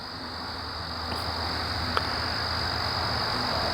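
Night insects chirp steadily at a distance, a continuous high-pitched trill running unbroken and even in level throughout, with a faint frog croak or two mixed into the background and no talking.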